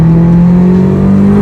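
A big-turbo 534 hp Honda Integra DC5 Type R engine pulls hard under acceleration, a loud, steady droning note rising gradually in pitch, heard close from inside the car.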